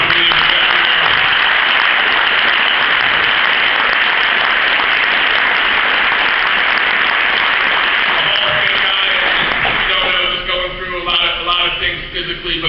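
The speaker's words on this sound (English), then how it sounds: "I just want to give everybody just a round of applause for Coach Adele." A banquet crowd at a National Lacrosse Hall of Fame induction applauds Coach Adele, a loud, continuous wash of clapping that thins out near the end as other sounds and voices emerge.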